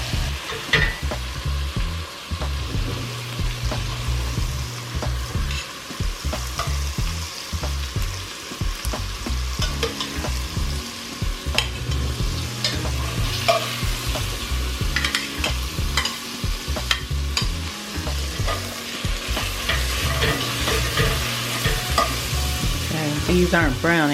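Chicken pieces frying in olive oil in a pot for one-pot chicken and rice, a close crackling sizzle broken by repeated scraping and stirring knocks, steady and fairly loud with no voices.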